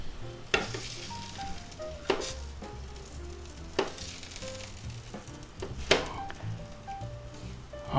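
A beef, onion and pepper quesadilla sizzles steadily in a pan, a constant frying hiss broken by several sharp scrapes and stirring knocks from a utensil, close and moderately quiet, with no talk.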